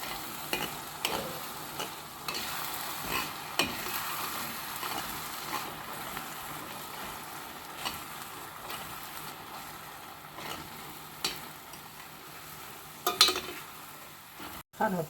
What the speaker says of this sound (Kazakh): Енді араластырып қуырамыз.